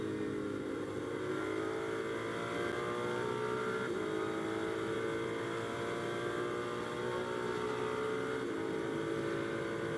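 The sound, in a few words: GT race car engine shifting gears, onboard at Spa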